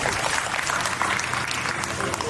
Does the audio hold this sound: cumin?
no